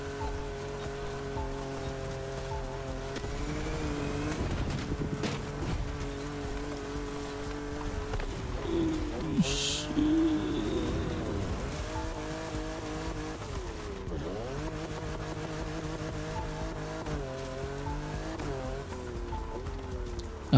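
A car is driven in the racing video game The Crew Motorfest: a steady engine drone with repeated rising and falling revs through gear shifts, a brief tire squeal, and a continuous background hiss.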